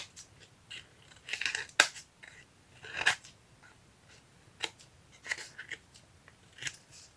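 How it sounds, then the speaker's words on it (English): Scissors snip through a small piece of paper in a few short, crisp cuts spread apart, with quiet handling noise between them and no one talking. "Maybe I need to just cut off a little piece."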